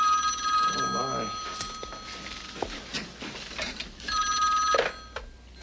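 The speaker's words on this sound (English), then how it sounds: "And I've just checked my answering machine, and now I think the phone rings." A telephone rings in a film excerpt from Modern Romance, an electronic bell trilling in two bursts separated by a pause, with a voice speaking between them and light handling clatter.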